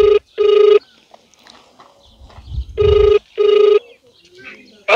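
A phone ringback tone sounds in two double bursts, separated by a pause with faint background noise and a low rumble.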